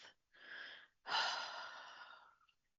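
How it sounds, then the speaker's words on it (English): A slow, deep breath drawn in through the nose, a short pause, then a longer, fuller exhale through the mouth, close and soft with no talking. "Inhale deeply through your nose and exhale fully through your mouth."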